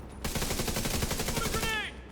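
Sustained rapid gunfire in a first-person shooter video game, loud and continuous bursts for about two seconds, with a brief rising electronic whine near the end and no speech.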